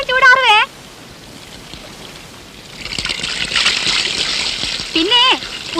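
Bath water splashes and pours in a steady rushing wash through the middle stretch, with voices speaking at the start and near the end.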